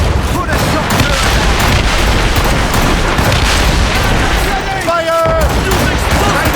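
Ship cannons fire in a naval battle in Assassin's Creed Rogue, a loud, continuous barrage of booms and rumbling blasts up close, with crew shouting over the noise.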